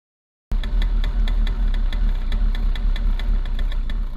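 A racing go-kart engine limps into the pits after a breakdown, running with a steady, rough drone and regular knocking pulses that stay loud and close throughout after a brief silence at the start.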